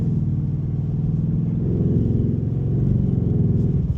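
A 2025 Ford Mustang GT V8 cruising at night, heard from inside as a low, steady engine rumble with slight rises in revs, constant and close with no talking.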